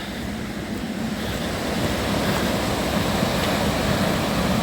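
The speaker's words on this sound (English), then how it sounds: "we've made it to the enormous weir, which sits across the full width of the river" Water pours over an enormous weir spanning the full width of a river, heard as a loud, continuous roar with no speech and a slight swell partway through.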